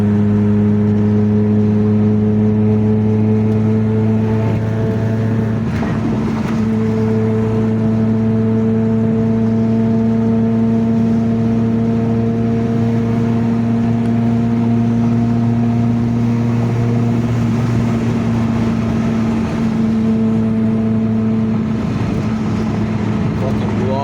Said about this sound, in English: this car has a really unique sound to it